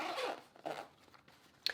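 Weatherproof zipper on a small GoPro accessory bag dragged open in two quick strokes, a long rasping pull then a shorter one, close and fairly quiet, followed by a small click.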